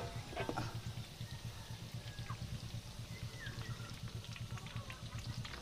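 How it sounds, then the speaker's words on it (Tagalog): Oil trickles and drips steadily from fried potatoes and carrots in a strainer, a soft continuous patter with a faint sizzle underneath, close by and fairly quiet. "Lagay natin sa strainer para makatulo yung mantika."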